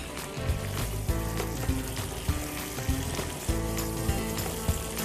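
About two spoons of cooking water hit melted butter in a hot restaurant pan, giving a loud, continuous frying sizzle with bubbling, watery hiss and a few clinks close by.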